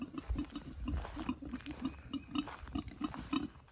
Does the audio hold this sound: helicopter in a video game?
no